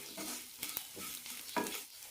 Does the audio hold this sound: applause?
no